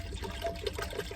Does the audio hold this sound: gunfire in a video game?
no